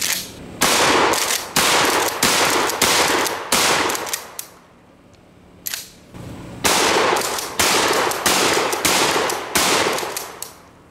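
Loud 12 gauge shotgun blasts firing double-aught buckshot into a clothes dryer, heavy reports coming in quick clusters with a short pause midway, each shot booming close and sharp.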